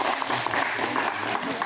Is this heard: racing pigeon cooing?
no